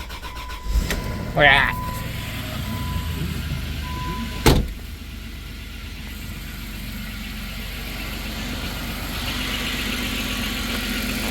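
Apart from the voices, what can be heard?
Dodge Caravan engine cold start and idling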